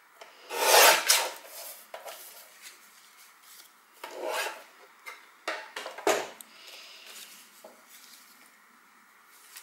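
Cardstock corners are cut for a handmade card, giving a few close, sharp rasping snips and rubs in separate bursts with quiet pauses between, no voices over them.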